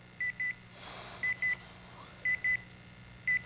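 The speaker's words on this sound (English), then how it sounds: "Buzzer got you." Electronic beeps from a game show in which contestants find hidden words, sounding in repeated pairs of short steady tones, four pairs spaced about a second apart, fairly clear over a low hum.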